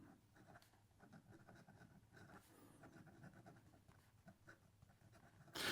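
A Wancher Matcha fountain pen with a nib turned over for reverse writing, moving across paper with a faint, slightly scratchy continuous scratching, quiet and close with no talk.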